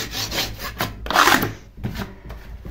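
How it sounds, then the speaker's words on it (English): A scraper rasps across a painted, papered ceiling above a staircase in several uneven strokes, close and fairly loud, with brief pauses between passes. "you're just gonna generally give it a scrape over."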